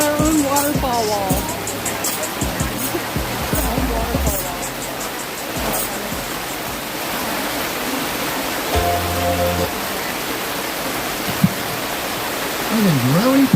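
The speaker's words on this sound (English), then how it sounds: "Look, we got our own waterfall wall." Water pours down a waterfall wall at a cold outdoor vigil, a constant broad rush underneath people talking nearby, with a few louder bursts of voices rising above it.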